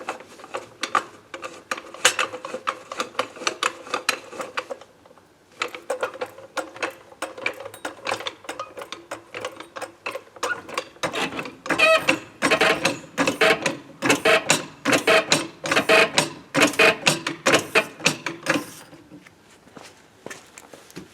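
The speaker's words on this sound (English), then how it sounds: "you want to lift your car, but just to the level where your tire is still touching the ground" A car jack lifts a car for a tire change, its ratchet making steady, repeated mechanical clicks. The clicking breaks off briefly, then comes back denser and louder, up close with no talking.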